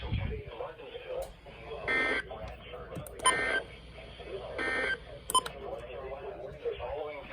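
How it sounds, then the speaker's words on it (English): A NOAA weather radio warning device sounds its test alert tone in bursts, steady beeping tones repeating several times between stretches of an automated broadcast voice. "This has been a test of the NOAA weather radio warning device."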